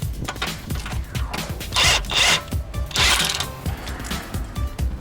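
A ratchet tightening the lower nut of a stabilizer bar link during a suspension repair, giving rapid close mechanical clicking in bursts with brief louder ratcheting runs, loud and alone.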